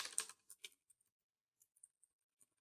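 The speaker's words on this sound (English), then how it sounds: "So I'm just typing password here." Password being typed on a computer keyboard while setting up a Raspberry Pi: a quick burst of clicks, then sparse, isolated key taps spread over a couple of seconds, faint and close, with no talking.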